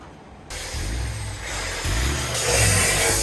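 A VW Golf GTI G60 engine runs on its current exhaust, a steady low rumble that steps up in loudness in stages as the throttle rises, with no talking.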